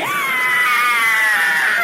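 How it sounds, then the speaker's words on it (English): A monster yowls in pain in an audiobook scene, one loud, sustained, wavering shriek that bends slightly downward and fills the whole moment. "The monster yowled with pain."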